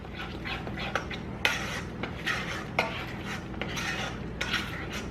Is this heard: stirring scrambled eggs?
yes